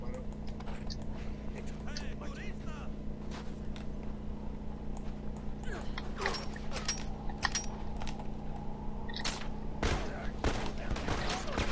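Scattered gunshots and bursts of fire from an online match of The Last of Us, fairly faint and sharp, under ongoing players' chatter and background game noise.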